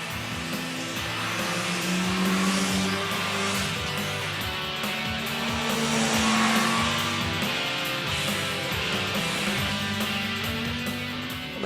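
Suzuki Hayabusa motorcycles lap a racetrack, their engines droning loudly and continuously with shifting pitch as bikes pass, rising and falling in a steady high-revving wail.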